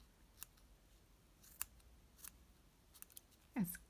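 Scissors snip knitting yarn in a quiet room, a few faint, scattered cuts followed by one sharper, louder snip at the end, with no talking.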